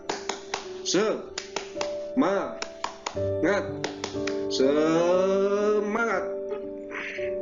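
A group claps out a quick rhythmic chant pattern, sharp claps interleaved with loud shouted voices calling out together.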